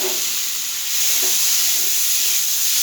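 Fried ridge gourd and potato pieces tipped into sizzling masala in a pan, giving a steady close frying sizzle and hiss throughout with a few soft clatters as they land.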